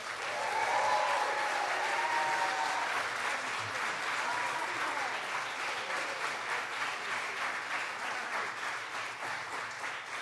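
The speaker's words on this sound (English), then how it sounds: "Let's give a round of applause to Secretary of Energy," Audience applause for Secretary of Energy Jennifer Granholm at an event with New York Governor Kathy Hochul, a full, sustained round of crowd clapping filling the room, strongest at the start and holding steady to the end.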